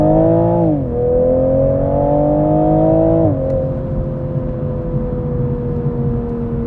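A BMW engine idles loudly with Active Sound Design switched off, running in sport mode with a steady, droning note that rises briefly and settles twice, close by and uninterrupted.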